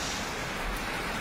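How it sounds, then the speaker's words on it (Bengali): Heavy rain falling steadily as a dense, even hiss, fairly faint and unbroken, with no voices. "এত জোরে বৃষ্টি হইতেছে"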